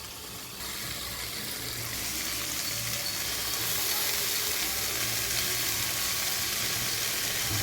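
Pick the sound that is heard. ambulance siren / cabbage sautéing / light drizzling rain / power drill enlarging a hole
cabbage sautéing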